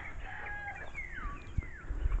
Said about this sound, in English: I'm feeding all the neighbors' chickens